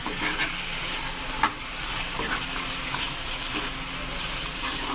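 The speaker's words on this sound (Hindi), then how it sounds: "और अब इसकी करेंगे अच्छी तरह भुनाई 5 से 6 मिनट।" Half a kilo of chicken frying in a pot for a commercial-style chicken palak, a loud, steady sizzle and hiss with occasional sharp clinks and scrapes of stirring.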